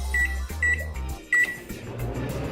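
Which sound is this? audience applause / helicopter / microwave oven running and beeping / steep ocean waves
microwave oven running and beeping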